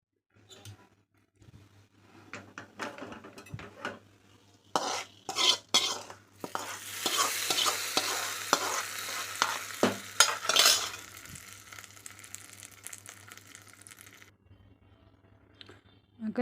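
Mustard seeds spluttering in hot oil with a pinch of dried red chilli for banana stem chutney: irregular crackles and pops that swell into a dense sizzling burst midway, then settle, with utensil clinks throughout.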